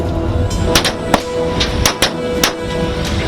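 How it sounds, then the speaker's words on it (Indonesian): Rapid gunfire from fisheries patrol vessels at two foreign ships in the Natuna Sea: about half a dozen sharp, loud reports at uneven intervals over a constant rumbling engine and water background. "Rentetan tembakan terpaksa dilepaskan oleh tim PSDKP Kementerian Kelautan dan Perikanan pada 2 kapal asing yang melanggar batas pelayaran di Laut Natuna"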